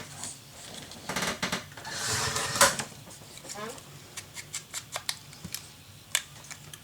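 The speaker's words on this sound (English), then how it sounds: "I am going to cut the blue one shorter." Scissors snip through blue paper for a mini album, a handful of short crisp cuts and rustles close by, with a brief voice and paper handling between them.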